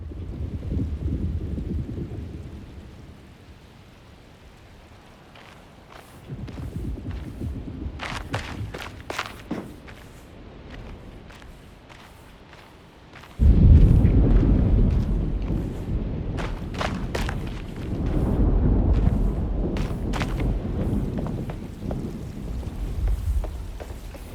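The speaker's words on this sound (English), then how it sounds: "Looks like a storm's coming." Thunderstorm in the video game Alone in the Dark: deep rolling thunder rumbles swell and fade over a steady wash of rain, with a loud close crack of thunder midway, and no one talking.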